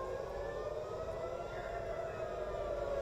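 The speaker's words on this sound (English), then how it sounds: "We'll hear the sirens are now coming." A steady, sustained wail of distant air raid sirens drones on continuously, blending into a broad background hum with no pauses.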